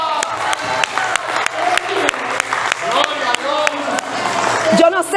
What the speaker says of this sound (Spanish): Dele un aplauso a Cristo de la gloria.